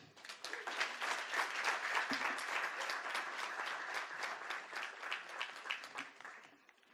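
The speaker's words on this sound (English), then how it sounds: "Another round of applause." Sustained audience applause at a graduation ceremony, many hands clapping steadily at close range for several seconds before tapering off slightly at the end.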